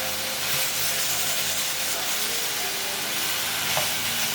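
Small pieces of ground beef sizzling and frying in a hot pan, a loud continuous crackling hiss with occasional stirring and spitting, close up and without talk.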